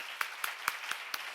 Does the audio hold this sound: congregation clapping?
yes